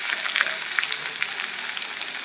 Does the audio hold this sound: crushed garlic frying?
yes